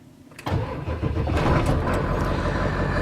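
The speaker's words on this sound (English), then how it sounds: "notice what happens when I start the truck" A 1995 Ford F-350 truck engine cranks briefly and fires, then settles into a loud, rough, steady rumble close by with no talking.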